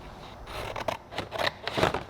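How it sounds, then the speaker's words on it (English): Scissors snip through a material for a large king and queen seat pan, giving several close, crisp cutting strokes in an uneven rhythm with no talking. "Cut it out with our scissors."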